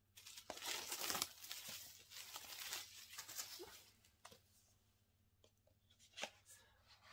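Plastic seal being torn and crinkled off a new three-disc DVD box set up close, with sharp irregular rips and crackles in bursts, then quieter handling and a few soft clicks.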